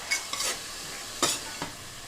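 Masala powders stirred into a hot pan for a broad beans pulav, with a soft sizzle and a few distinct scraping stirs in short bursts, close and moderately quiet.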